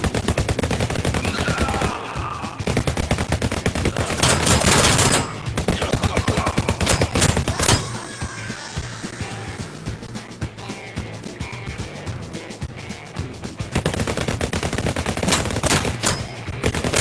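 Two .45 caliber revolvers fire in the Oculus VR game Guns 'n' Stories: Bulletproof. Loud, rapid volleys of gunshots come in long bursts, broken by a short lull, then resume at full intensity.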